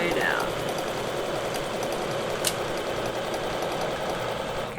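A sewing machine stitching a quilt block during ruler work, running in a steady unbroken hum from start to finish, with someone talking over it.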